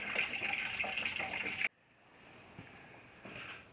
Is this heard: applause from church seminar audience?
no